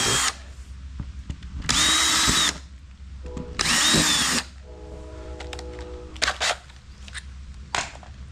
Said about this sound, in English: We're gonna go ahead and drill them out, clean those out